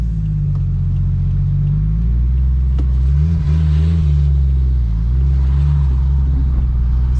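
Turbocharged Toyota JZX100 engine rumbling deeply up close, with the revs rising and falling in a few swells while the car drives, steady and loud with no talk.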